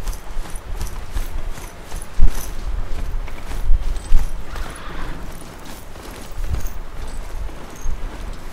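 Horse hooves clip-clop in a steady walking rhythm while riding in the video game Horizon Zero Dawn, close and moderately loud, with a few sharper hoof strikes and faint game ambience behind them.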